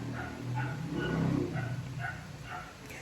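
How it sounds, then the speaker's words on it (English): A dog barks a few times in short, spaced yips and woofs at moderate distance, set against a steady outdoor background rumble. "Enough to hear the dog"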